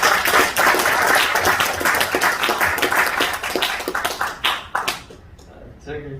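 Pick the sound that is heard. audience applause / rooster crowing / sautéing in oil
audience applause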